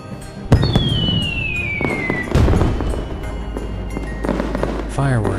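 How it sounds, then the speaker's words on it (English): Fireworks exploding outside at New Year, sharp bangs with a whistling rocket streak and crackling bursts, fairly loud and close, ending with a rising whistle. "Fireworks exploded outside."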